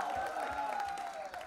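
Audience applause and crowd noise at a film song launch event as the award-winning director is called to the stage, a steady, fairly distant wash of clapping with a sustained tone running through it.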